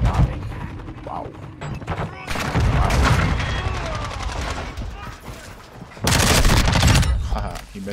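Rapid bursts of automatic gunfire ring out in a Call of Duty-style shooter, with scattered shots early, then a sustained loud volley and a second heavy burst near the end, mixed with game announcer voices.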